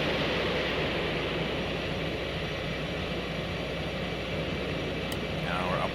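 F-18 jet in X-Plane 11 making a gentle left turn on a night pattern, a steady, even engine roar filling the background without a break.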